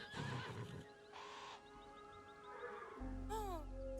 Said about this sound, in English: I don't know what horse that is, but I would love that as like a horse we could buy